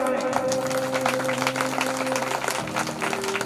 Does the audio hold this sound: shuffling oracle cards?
no